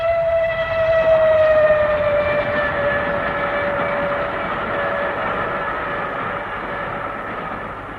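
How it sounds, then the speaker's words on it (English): A train passes beneath a window with a sustained rumble, and a long whistle or horn tone slowly falls in pitch over the noise, loud and close. "Bad enough to have the trains banging under one's window all night long"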